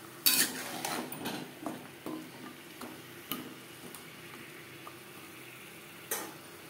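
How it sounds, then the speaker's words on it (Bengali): Spoon or spatula scraping and tapping in a pan while pumpkin and vine stalks are stirred with spices, a series of distinct knocks, close and moderately loud, without speech. "মশলার সাথে কুমড়ো ডাঁটা বেশ ভালো করে মিক্স করে দেবো।"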